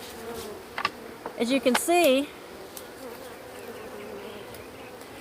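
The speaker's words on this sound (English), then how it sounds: "the bees are just kind of flying around, kind of getting their bearings" Honeybees buzz steadily and softly around an open beehive, a faint continuous drone under a few spoken words from a nearby person.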